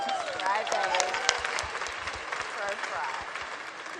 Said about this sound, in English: Thank you for applauding crying.